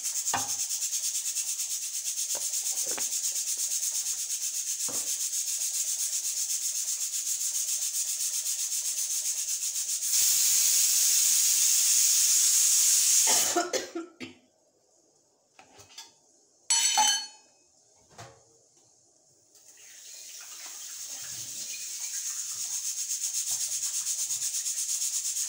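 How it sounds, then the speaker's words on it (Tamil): Yam pieces fry in peanut oil in a kadai, a steady bright sizzle that surges louder midway, breaks off into scattered clatters, then settles back into a continuous hiss. "கடலை எண்ணெய் எடுத்து பொரிக்க போகிறேன்"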